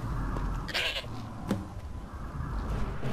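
A goat bleats in the video game Skyrim Special Edition, one short, fairly loud call near the start over steady game ambience, with a fainter blip about half a second later.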